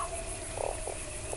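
A talking toad in the Fran Bow video game croaks in short, throaty bursts, three brief croaks spaced over a low steady ambient drone, fairly close and moderately loud.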